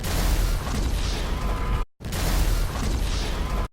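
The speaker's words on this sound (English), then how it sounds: "Let's just say there were a lot of random exploding cars in GTA Online for a while." Cars explode in GTA Online, two loud, dense booming blasts of heavy rumbling noise, separated by a brief cut of silence.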